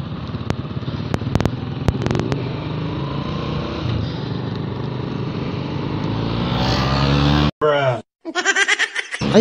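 A loud Raider motorcycle roars past close by, its engine note swelling to a harsh, buzzing peak toward the end, with brief dropouts and some laughter and chatter early on.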